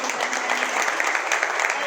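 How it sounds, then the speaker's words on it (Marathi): Applause from an audience at a yoga session, a dense, steady clapping that fills the short clip at moderate volume. "जोरदार टाळ्या झाल्या पाहिजे"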